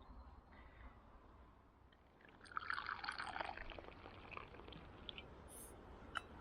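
Tea pouring from a flask into a cup outdoors beside a cold river during a roach fishing trip: a soft, faint stream of liquid lasting a few seconds, then a light clink.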